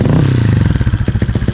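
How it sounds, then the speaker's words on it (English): A Honda CRF110 pit bike with a 147cc big bore kit runs close by at a loud, steady idle, its low engine note pulsing with a clattery rhythm. "Just a quick turn on this little screw and the bike is now idling."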